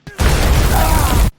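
A German attack explosion in a World War II war film, a sudden loud blast that holds as a dense roaring burst for about a second before cutting off.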